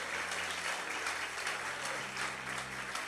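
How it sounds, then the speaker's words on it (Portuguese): Applause from a church congregation at a worship service, a steady, dense wash of clapping that fills the whole stretch at moderate volume with no voices on top. "Mais forte esse aplauso a ele."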